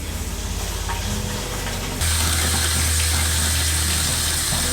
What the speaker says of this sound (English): Everything seems to be draining well too.